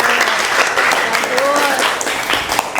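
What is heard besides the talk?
class applause for a student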